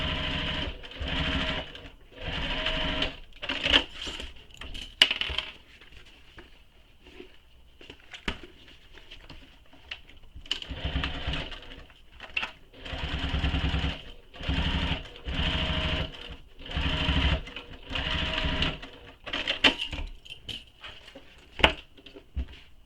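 A sewing machine runs a seam on a longer stitch length in repeated bursts of rapid chattering, stopping and starting every few seconds with quiet pauses between, close and moderately loud.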